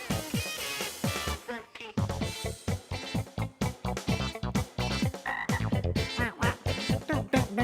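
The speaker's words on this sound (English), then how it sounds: "So you got a weird frog and then a werewolf." A quirky song plays loud and steady, its dense music carrying a rhythmic croaking frog-like voice or effect through the mix.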